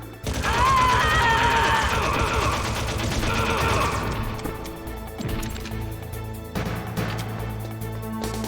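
Rapid bursts of gunfire in the Metal Gear Solid video game, loud and dense at first with crashing impacts and a sustained mechanical rattle, thinning into scattered shots and clatter toward the end.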